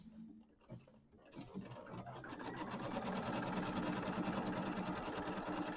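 A Kimberbell embroidery machine starts up and settles into a steady, fast mechanical whir while stitching down a pillow piece, close and moderately quiet after a few faint handling sounds.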